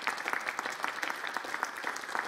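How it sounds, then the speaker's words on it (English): An audience at a conversation event claps steadily and densely for a couple of seconds, a fairly close, even patter of many hands. "Let's give them a round of applause in our appreciation"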